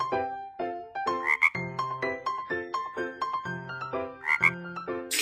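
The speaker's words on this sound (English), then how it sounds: "Frog." A frog croaks in a repeated series of short, resonant, tonal calls, loud and close, with no talking over it.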